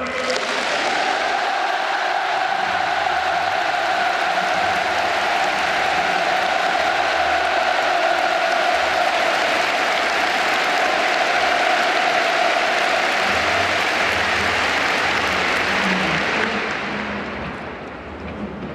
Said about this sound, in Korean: 우리 모두 문재인 대통령에게 열광적인 박수와 열렬한 환호를 보내줍시다.